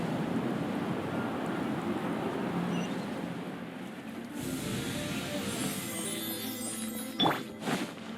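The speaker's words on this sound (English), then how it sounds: "Oh, another wind current." Wind current in Genshin Impact, a steady airy whoosh of rushing wind with a brighter shimmering swell partway through and a brief sharp accent near the end, no talking.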